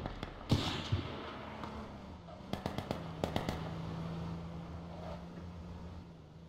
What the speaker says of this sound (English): I'm hearing a sniper go off.